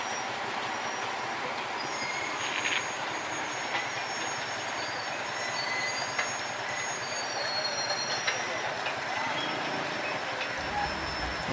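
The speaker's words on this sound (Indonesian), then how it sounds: "kereta lori berjalan sangat pelan teman-teman ya, karena khawatir anjlok ketika melewati rel yang mengeluarkan air" A sugarcane lorry train from the PG Kedawung sugar mill creeps slowly along rails at night past roadside stalls, giving a steady, moderately loud rolling rumble with faint wheel squeal and scattered clicks throughout.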